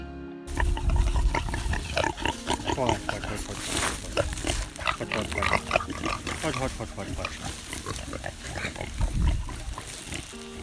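Pastured hogs on a farm grunt and snort in a steady stream. A person talks over them and background noise runs throughout.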